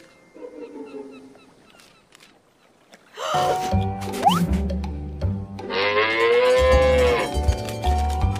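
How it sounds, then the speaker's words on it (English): A cow moos from a cartoon soundtrack set on a farm, with faint tonal bits at first, then a loud, close, drawn-out moo with a rising, wavering call over a rumbling backdrop. "And I'll bring my cow up to you, Ryder."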